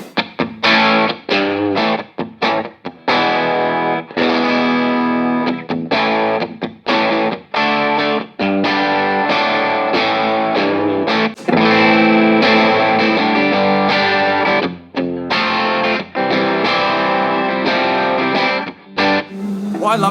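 An electric guitar plays through a Synergy amp on channel 1 with the gain turned down at NAMM 2020. Strummed chords and picked notes ring out loud and bright in choppy bursts with short gaps.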